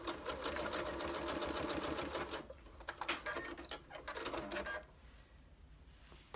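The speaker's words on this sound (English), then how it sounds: "I'm just going to stick that under the sewing machine." A sewing machine stitches closed the opening of a fabric skillet-handle pot holder, first with a continuous close rapid whir, then in short stop-and-start bursts before falling quiet.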